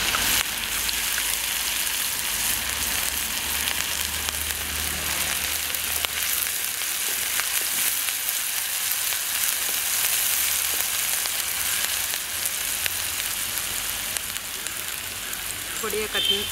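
Green chilies and chopped ginger fry in hot oil with a steady, dense sizzle that runs unbroken throughout, close and fairly loud, with brief stirring noises now and then.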